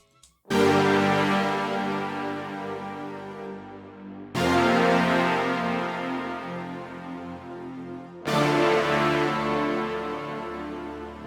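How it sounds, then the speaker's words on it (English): Three loud synth chord stabs layered with orchestral brass hit every four seconds, each ringing out and slowly fading before the next. "we have some synths playing the chord stabs, and I've also layered an orchestral brass with it"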